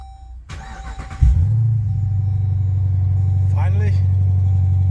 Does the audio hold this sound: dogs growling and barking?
no